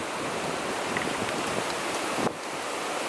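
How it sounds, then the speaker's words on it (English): On an Australian farm, a storm brings gale-force winds, rain and hail: a dense, steady roar of wind and rushing rain fills the whole clip with no pauses or voices. "I suppose those are gale force winds, rain, hail and thunder."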